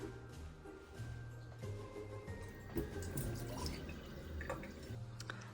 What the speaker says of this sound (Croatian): U praznu čašu sipam vode.